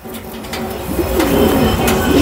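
A high-flying pigeon coos softly nearby, low throaty calls building over a couple of seconds against a faint background hum.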